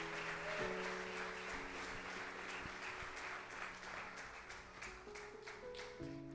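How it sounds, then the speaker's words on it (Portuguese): Church congregation applauding to welcome the pastor, a dense continuous clapping from many hands in a large hall, held steady over sustained organ or keyboard tones. "vamos receber o nosso pastor aplaudindo ao Senhor em nome de Jesus"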